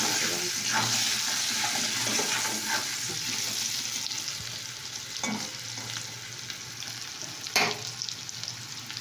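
Food frying in a pan with turmeric, a close, steady sizzle broken by a few stirring clinks and scrapes, with no clear talk.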